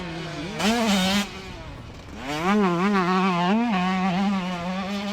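A 125cc two-stroke motocross bike races around a track with a chicane and tabletop jumps. Its engine screams loud and close, rising and falling through rapid revs, with a brief lull before it climbs again into sustained high-pitched acceleration.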